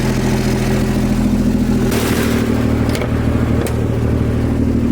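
A Nissan 300ZX with an exhaust leak runs on a short test drive, its engine droning steadily at low revs and then rising in pitch as it accelerates, with a couple of brief clunks.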